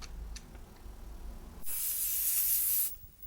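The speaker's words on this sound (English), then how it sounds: "we are looking at the lovely airbrush from Gaahleri" Gaahleri Mobius 0.2 airbrush sprays in a steady airy hiss lasting just over a second, starting abruptly after quiet room noise and cutting off cleanly, close and fairly loud.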